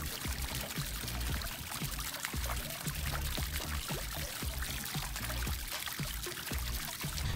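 Water sprays steadily from a Total Pond trumpet fountain nozzle in a garden pond, a continuous close splashing patter that keeps going without a break.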